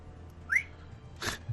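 A person gives a short, faint rising whistle, followed after a pause by a brief breathy hiss, in a quiet room during a tabletop Dungeons & Dragons game.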